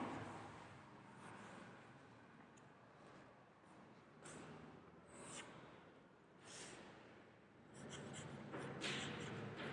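Chalk or marker writing on a classroom board, strokes scratching in short bursts with pauses between words, close and fairly steady, no talk over it.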